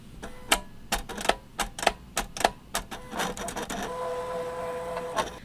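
Cricut or Cameo cutting machine slicing copy paper, giving a run of sharp, irregular mechanical clicks and taps, then a brief steady whirring hum near the end, close and clear with no talking.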